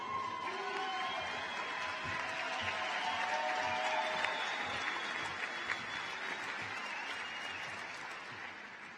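A crowd at a high school graduation ceremony applauds in a large space, with sustained, even clapping and a faint murmur of cheering mixed in, heard at some distance.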